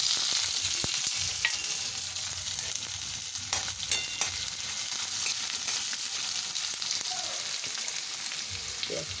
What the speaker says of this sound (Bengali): এইবার আমি এই তেলে পেঁয়াজটা দিয়ে দিচ্ছি।